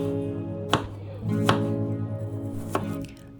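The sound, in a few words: knife finely dicing white onion and garlic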